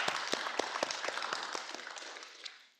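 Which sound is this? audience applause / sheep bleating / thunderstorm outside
audience applause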